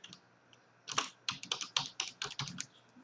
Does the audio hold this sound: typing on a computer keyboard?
yes